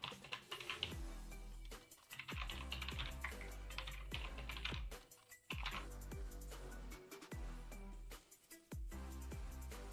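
Rapid keystrokes on a computer keyboard as a password is entered, quiet and close, coming in quick bursts separated by brief pauses, with no voices.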